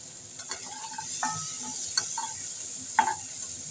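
Prawns fry in oil with a steady high sizzle, while several sharp spatula scrapes and clinks against the pan mark them being stirred and lifted out.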